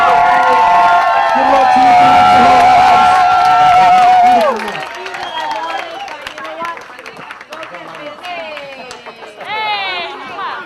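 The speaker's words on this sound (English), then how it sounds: "So give them one more big round of applause tonight." Wedding guests cheer and clap at a night-time send-off as a voice speaks over a loud opening swell. A looser, scattered mix of shouts and claps follows.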